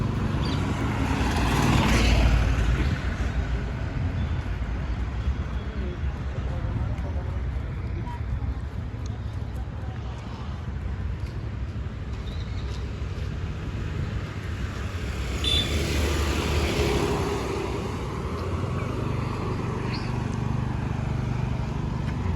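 A scooter ridden by a learner gives a steady low engine and road rumble with wind buffeting, continuous and close, while a person talks over it at moments.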